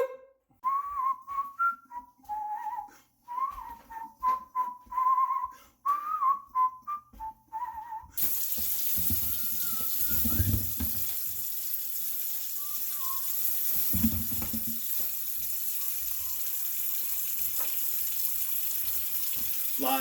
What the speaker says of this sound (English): I like to wash my vegetables.